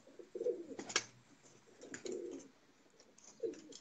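Pigeons coo softly nearby in low, throaty, rolling calls, three or four separate coos spaced over a few seconds, with faint background noise.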